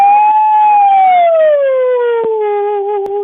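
A human voice imitates a big siren, holding a loud continuous tone that slides slowly downward in pitch over several seconds, with brief breaths or clicks near the end.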